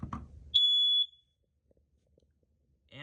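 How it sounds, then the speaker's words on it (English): A First Alert 9120B ionization smoke alarm gives one loud, high-pitched electronic beep of about half a second after its test button is pushed, followed by near silence. "In order to reset this, just give the test button a quick push"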